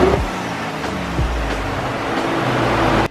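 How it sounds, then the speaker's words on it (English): Ford Raptor truck fitted with a Cobb intake, its engine starting up and settling into a loud, steady, close-up rumble with a couple of brief mechanical knocks along the way. No voices are heard. "I'm going to start the truck up, warm it up for a second"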